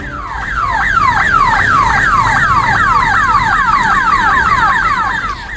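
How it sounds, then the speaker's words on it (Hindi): A loud electronic alarm siren at a Punjab National Bank branch in Danapur wails continuously on a cold night, its pitch sweeping upward over and over in a fast, steady cycle, with no voices. "पंजाब नेशनल बैंक के बोचाचक ब्रांच से सायरन की कर्कश आवाज गूंजने लगी"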